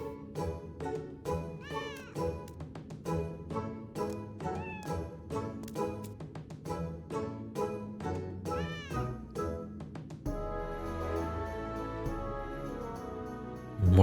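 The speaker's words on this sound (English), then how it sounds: "These are my kittens." Cats meowing in the video game Final Fantasy XIV, a rapid series of high, clear mews in an uneven rhythm, close and prominent, followed by a shift to a denser background of game sound.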